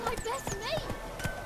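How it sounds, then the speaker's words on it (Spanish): Horse hooves clip-clop in The Witcher 3 as the player mounts the horse, with a few quick hoof beats and a brief whinny-like sound over game music and a speaking voice. "Te subes al caballo"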